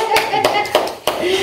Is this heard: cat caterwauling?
no